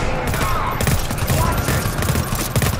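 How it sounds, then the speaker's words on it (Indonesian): Rapid machine gun fire rattles continuously through a dense, noisy mix of combat effects in the video game GTFO, steady and fairly loud throughout. "Anjir, dia machine gun."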